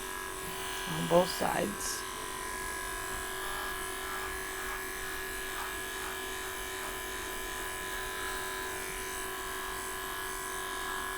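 Electric dog clippers fitted with a 10 blade trim a show-groomed American Cocker Spaniel around the eye and ear, giving a steady close-up buzz that hums on throughout while a person talks briefly over it.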